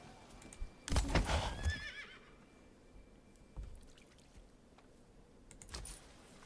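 A horse in the medieval town-building game Manor Lords gives one loud, close whinny, followed by soft clip-clop hoofbeats and a faint second burst at the end.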